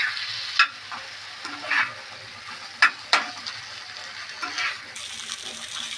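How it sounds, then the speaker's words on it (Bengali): Spice paste frying in a pan with a splash of water for butter chicken fry, a soft bubbling sizzle punctuated by several sharp spoon scrapes and knocks, close and otherwise quiet. "এই জলটা দিয়ে এবার ভালো করে মশলাটাকে কষিয়ে নেবো"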